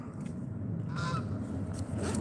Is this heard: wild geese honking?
yes